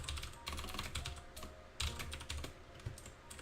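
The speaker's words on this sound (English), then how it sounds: "I can do the typing." Fingers tap quickly and irregularly on a computer keyboard while C# code is entered, with a few heavier key strikes standing out in a soft, close patter.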